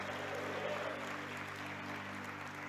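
Church congregation applauding during a Portuguese-language sermon, a steady broadband wash of clapping that holds evenly at moderate volume throughout, with no talk over it.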